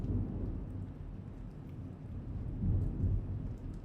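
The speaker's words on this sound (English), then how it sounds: "You can hear the thunder too." Thunder rumbles low and steady through a lightning storm over a residential area with trees and houses, swelling slightly near the end while rain patters softly underneath, with no talking.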